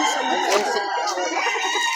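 Chickens and a rooster at a poultry buy-and-sell in Lipa City, Batangas, crowing and clucking in a dense, steady chorus close by, with no pause across the short stretch.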